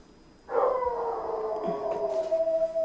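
A dog howls in one long, sustained wail that starts abruptly and holds steady, fairly close and loud, with no talking over it.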